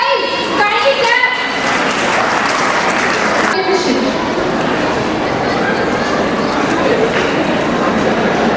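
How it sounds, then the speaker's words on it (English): An audience claps at a school farewell party, a dense, steady patter of many hands in a room that runs for several seconds, following a brief announcement voice at the start. "Show some energy, guys. Kindly clap."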